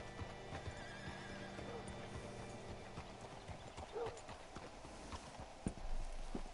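Horse hooves clip-clopping steadily with a sharp whinny partway through, in the Red Dead Redemption 2 video game, with faint game ambience in the background.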